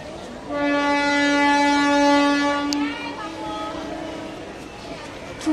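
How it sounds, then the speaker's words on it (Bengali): An approaching train sounds a loud, sustained horn blast lasting a few seconds, followed by a softer, lower horn tone as it draws nearer in the open outdoors. "ট্রেন আসছে রে"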